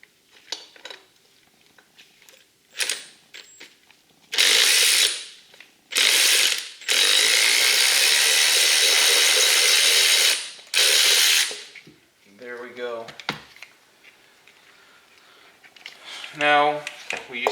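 Electric ratchet spinning out bolts from a jet ski engine intake on a 2013 Kawasaki STX 15F, several loud sustained whirring bursts separated by pauses, with brief speech between runs.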